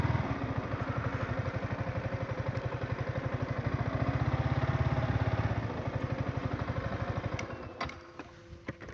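A motorcycle ridden along a rough road in Assam, its engine pulsing steadily and loudly up close for most of the ride before easing off, with a few clattering knocks near the end.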